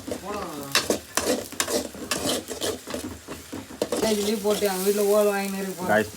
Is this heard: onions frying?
yes